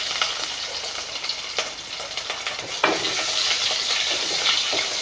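Fennel seeds, curry leaves and crushed ginger-garlic frying in hot oil for a beef fry: loud, close, continuous sizzling with crackles and stirring scrapes, briefly swelling as more is added, with no voices.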